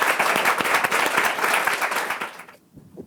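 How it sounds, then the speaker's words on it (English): An audience gives panelists a short burst of brisk applause after a discussion on women, energy and economic empowerment, loud and dense before cutting off sharply into near silence. "So let's give them a round of applause now"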